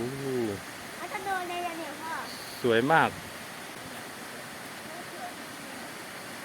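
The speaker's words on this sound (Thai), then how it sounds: "น้ำตกโอ้" A waterfall in Ubon Ratchathani, Thailand, gives a steady, even rushing hiss throughout, with people talking over it.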